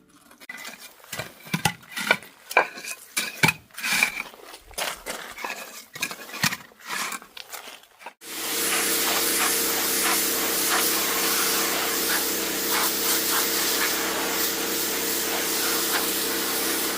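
Scrubbing hundreds of years of grime off old handmade terracotta tiles: irregular rough, close bursts of friction for several seconds, then an abrupt switch to a loud, steady, even hiss that continues to the end.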